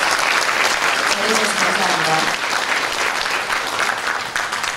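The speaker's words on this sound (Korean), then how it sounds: "여러분 뜨거운 박수 부탁드리겠습니다." An audience at an academic seminar on character education in schools gives sustained, full applause while a voice speaks briefly over it.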